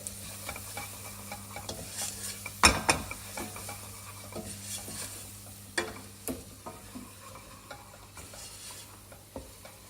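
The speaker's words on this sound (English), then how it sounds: "So we just want to cook out the spice a little bit." Ground cumin, coriander and turmeric fry in an oiled pan with a low steady sizzle while a utensil stirs, tapping and scraping the pan in scattered strokes, including one sharp clank early on, with no talking.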